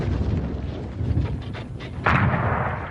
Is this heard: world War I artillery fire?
yes